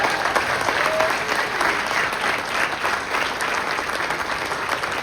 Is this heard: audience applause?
yes